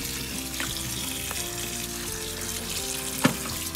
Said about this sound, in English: I'm washing it properly so all the salt gets